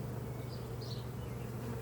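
Honeybees buzz at their hive in a steady, dense drone, with a few individual bees whining past close by.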